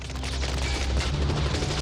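A SWAT squad fires a heavy barrage of gunfire in a Terminator 2 film scene: dense, continuous rapid shots and booming blasts that cut off abruptly at the end.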